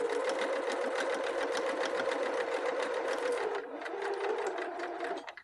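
A sewing machine stitches fabric held with round-headed pins, a close, steady rapid mechanical whir that slows briefly, resumes and then stops.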